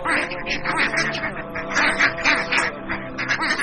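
Ducks and other waterfowl quack loudly in a dense, overlapping chorus of repeated calls, close and continuous throughout.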